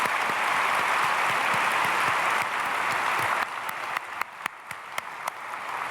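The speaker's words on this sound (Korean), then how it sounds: "박수하겠습니다." Sustained applause from a church congregation during a Sunday worship service, a dense steady clapping that fills the room before thinning out into scattered claps near the end.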